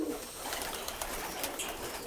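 Pigeons cooing nearby, soft low murmuring coos blending into a continuous ambient bed with a few faint flutters, no voices present.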